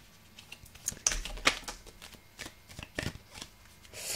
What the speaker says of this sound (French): Je vais prendre juste, voilà, une ou deux petites cartes de mon oracle pour compléter